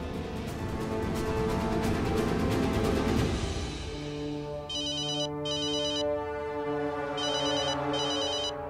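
Telephone ringtone ringing in a quiet indoor room, a repeating electronic melody in clear bursts after a noisier opening passage, moderately loud with no one speaking over it.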